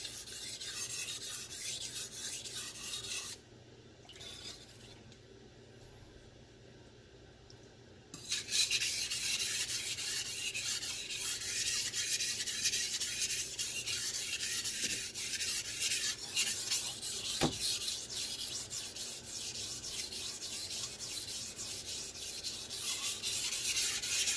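A knife blade is drawn back and forth across a wet DALSTRONG whetstone, a close, steady gritty rasping that pauses briefly before resuming more strongly for a long sustained stretch.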